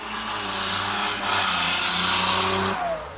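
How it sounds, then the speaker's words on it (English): A Toyota Supra engine fitted with a T78 turbo inside a Mercedes W201 revs up under throttle, a loud, close, rising engine note that climbs steadily, holds, then drops off near the end. "As soon as I get on the throttle"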